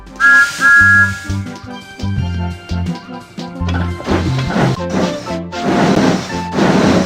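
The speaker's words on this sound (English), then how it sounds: "Pull my whistle, please, and then we can set off." A bright cartoon-style train whistle from the 2001 PC game Thomas and Friends: Railway Adventures toots at the start, followed by bouncy music with clattering, crashing percussion.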